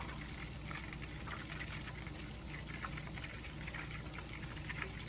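Butter cooking in a pan before it starts to brown gives off a soft, continuous sizzle and bubbling. It stays steady and fairly quiet from start to finish, with no talking over it.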